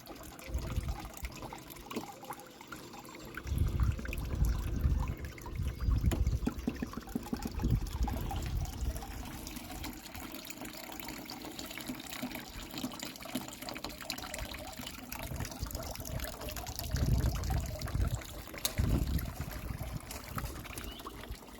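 Water running and trickling steadily into a homemade aquaponics system fed without a pump, a continuous close liquid babble with louder gushing swells every few seconds, no talking.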